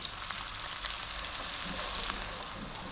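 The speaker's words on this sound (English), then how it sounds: "to that we're going to drop in our onion, 1 cup of onion" Chopped onion with curry leaves frying in hot oil for aloo pav, a constant bright sizzle with faint stirring, close and moderately loud with no talk.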